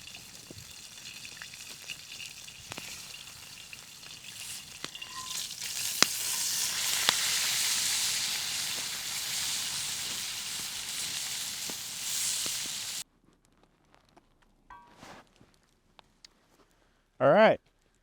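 Steak sizzling on a hot rock set over coals at a winter mountain camp, a steady close hiss that swells and then stops abruptly, followed by near silence and a brief burst of speech.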